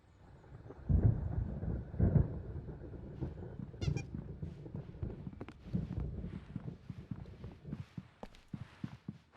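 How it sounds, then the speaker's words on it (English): An approaching thunderstorm in the game Alan Wake, with rolling low rumbles and scattered cracks and thumps of moderate loudness building over several seconds, no voices. "There's a storm coming. Oh, what a storm."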